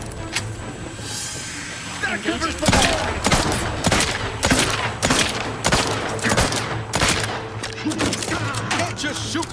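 Rapid gunfire in the video game The Outer Worlds 2, a loud burst-filled fusillade of sharp repeated shots with hissing energy sounds, close and dense, with a voice speaking over the battle.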